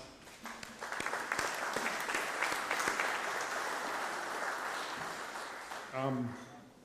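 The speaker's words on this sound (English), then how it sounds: "Give yourself a round of applause." Workshop attendees give a round of applause, steady moderately distant clapping that fades near the end as a voice begins speaking.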